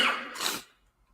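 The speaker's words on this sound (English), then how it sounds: "Excuse me, I have to cough 1 second." A single close, harsh cough with a short breathy burst, then quiet.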